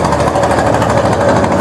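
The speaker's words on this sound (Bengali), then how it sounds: "এই যে একটা ট্রলার আসছে," A trawler boat engine passing on a river near Barishal, Bangladesh, makes a loud, steady, close chugging drone that throbs continuously without a break.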